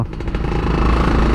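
Motorcycle engine fitted with a Nibbi racing carburetor (PE 24) running during a test ride, a loud steady engine drone with a slight rise in revs, continuous and close throughout.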